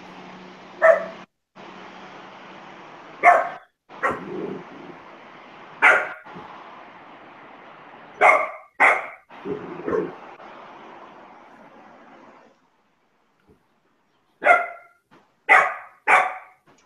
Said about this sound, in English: don't be barking at me, dog